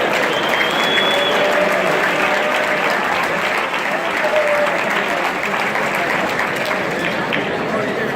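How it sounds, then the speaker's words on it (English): At a college conference luncheon, an audience gives a big round of applause: dense, sustained clapping that fills the room at a steady level, with crowd voices mixed in. "a big round of applause."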